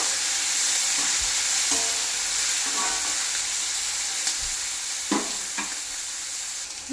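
Onions fry in a pan with a steady, bright hiss of sizzling oil, while a utensil scrapes and stirs them in occasional short strokes, close and continuous.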